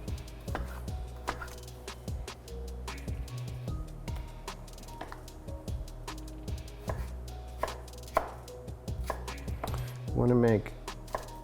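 A knife chops oyster garnish ingredients into tiny cubes on a board, giving a rapid run of sharp, close taps with brief pauses and a louder burst near the end.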